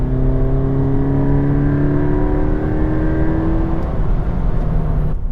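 A Toyota GT86 sports car's engine pulls hard and loud from inside the cabin, its tone sliding down in pitch as the revs fall while driving.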